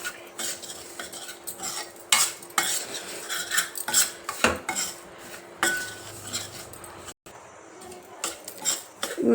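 Semolina (rava) frying toward golden brown in a pan, with repeated scraping and clinking of a metal spoon against the vessel over a soft sizzle, irregular stirring strokes throughout, no talking.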